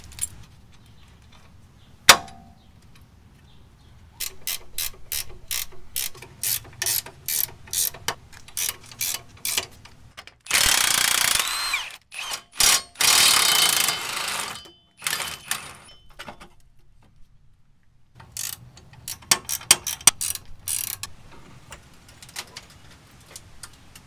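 Bolt being tightened on a lowered Z71 Tahoe's suspension, heard as bursts of close ratchet clicking with pauses, some long rapid runs and a few metallic clanks between them, with no talking.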